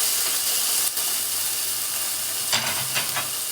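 Chopped tomatoes hit browned, sizzling shallots in a hot pan for a Kerala chicken curry, giving a loud steady frying hiss with a few soft stirring scrapes near the end.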